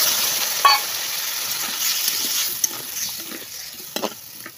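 Spiced potato and pointed gourd curry frying in a pan gives a steady hiss of sizzling oil with a few sharp utensil clicks and scrapes, moderately loud and close, with no talk.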